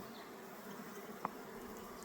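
Soft, steady buzzing of honey bees taking water hums at low volume throughout, with one brief tick partway through.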